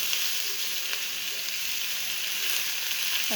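Eggplant and green chilies sizzle steadily in a hot pan with oil and turmeric, a dense, continuous frying hiss with no talking.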